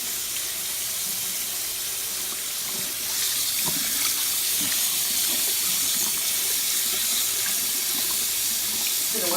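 Warm water running from a tap into a sink, a steady moderate hiss and splash that grows slightly fuller partway through, with no talking.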